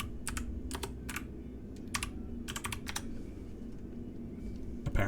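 Keys on a computer keyboard clack in short irregular bursts of typing, close and fairly crisp, with pauses between runs over a steady low background hum; no one speaks.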